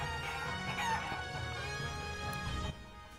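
Chickens in the video game Shenmue III, a steady mix of clucking and crowing-like calls filling the scene at moderate loudness, with a faint background music bed underneath.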